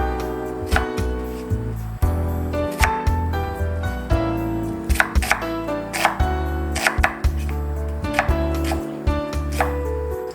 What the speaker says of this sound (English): Slice the onion.